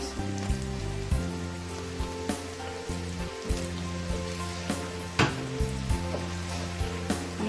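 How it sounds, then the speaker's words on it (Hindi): Carrots and cauliflower fry in a pan for a chicken fry, giving a steady close sizzle with soft crackles and occasional scraping stirs throughout, no voices. "हमें सारी सब्जियों को 5-5 मिनट इसमें फ्राई करना है।"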